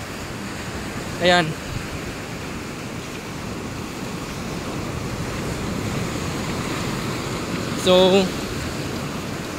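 Rough sea with big surf breaking steadily on the shore, a continuous broad wash of wave noise with wind buffeting, while voices talk briefly at two moments.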